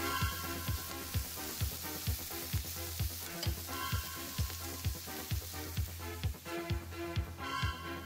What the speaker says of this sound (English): Fry up your meat, but don't cook it all the way through, just make it so that it's sealed.